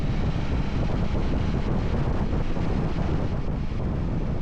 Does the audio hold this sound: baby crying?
no